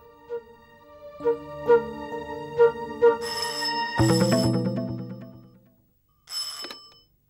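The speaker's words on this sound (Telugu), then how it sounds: "రింగ్ అవుతుంది, మాట్లాడు." A telephone rings with several evenly spaced electronic tones, followed by a swelling musical sting and a brief bright chime, fairly close and clear with no talk.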